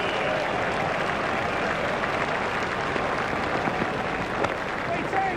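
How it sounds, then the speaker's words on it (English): Crowd applause in the Cricket 2002 video game, a steady, dense wash of clapping that holds at an even level throughout with a commentator talking over it. "The crowd enjoyed that one."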